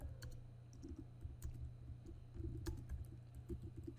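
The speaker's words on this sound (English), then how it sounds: "just hit download and then type in a name of your file" Fingers type a file name on a computer keyboard, a quiet run of light, irregular key clicks close by over a low steady hum, with no voices.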